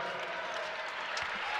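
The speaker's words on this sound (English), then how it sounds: "the crowd at Diddle Arena shows their appreciation" Arena crowd applauding after a basketball game between Old Dominion and Western Kentucky at Diddle Arena, a steady wash of clapping and cheering that stays even throughout, with no break.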